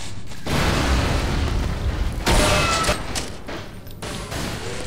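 A grenade detonates in the video game UnderHell, a loud booming blast with a rumbling tail and a second heavy burst about two seconds later, with no one talking over it.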